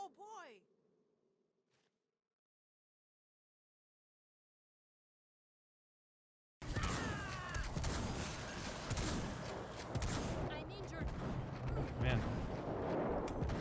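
Weapon gunfire in the video game Second Extinction bursts in loudly after a brief silence, dense booming shots and explosions filling the second half, with someone talking briefly.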